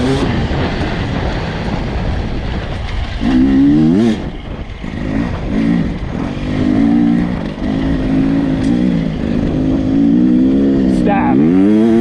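A 2020 Beta 300RR Race Edition motorcycle creeps along in second gear, its engine rising and falling through several short revving pulls. It is close and loud, with a rider talking under it at times.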